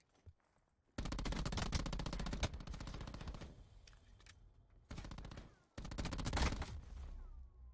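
Rapid automatic gunfire from a first-person shooter, Black Ops 4, in a one-on-one free-for-all match, loud sustained bursts with short pauses between them.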